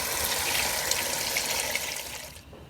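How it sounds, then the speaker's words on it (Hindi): Water pouring steadily into a pot of soaked rice and chicken for pulao, a close, loud gushing splash that holds for about two seconds before stopping abruptly. "अब हम इसमें डालेंगे पानी।"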